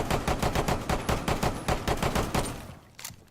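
A pistol fires in the video game Rainbow Six Siege, a quick rhythmic string of about a dozen and a half sharp shots at an even pace, loud and close, then a last isolated shot after a brief pause.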